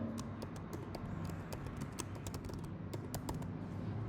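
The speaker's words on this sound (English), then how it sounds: "You type the designation here" Quick, steady keystrokes patter on a computer keyboard, close and fairly quiet, with a few sharper taps standing out over a low background hum.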